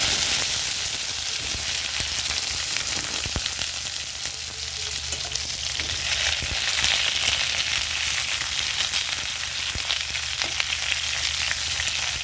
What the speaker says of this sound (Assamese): মই এতিয়া পটলকেইটা ভাজি ল'ম।